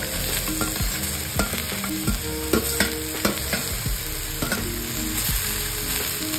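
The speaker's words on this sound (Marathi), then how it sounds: "गोल्डन ब्राऊन करून घ्यायचा आहे कांदा" Onions frying in a pan until golden brown, a constant dense sizzle close by, punctuated by frequent sharp stirring clicks and scrapes.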